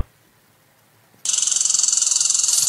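A frog starts croaking abruptly after a quiet moment, a loud, rapid, buzzing trill of evenly pulsed notes that continues steadily to the end.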